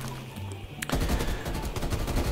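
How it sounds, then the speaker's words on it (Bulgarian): A burst-fire gun in the Call of Duty Cold War multiplayer video game fires loud rapid bursts of shots, beginning abruptly after a short quieter lead-in and continuing densely to the end. "като натисна бутона и изстрелва 3 патрона наведнъж"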